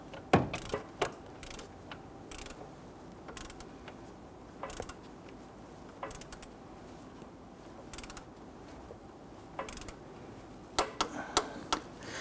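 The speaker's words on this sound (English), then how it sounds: "I'm going to torque these down to 36 foot-pounds" A torque wrench on Kia Sorento 2.4L alternator bolts gives faint, scattered clicks and ratcheting ticks in short bursts against a quiet background.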